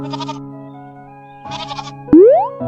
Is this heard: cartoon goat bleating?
yes